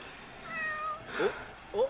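Cat meows in The Sims 4, two or three short whiny calls close up, with the game's ambient music running softly underneath.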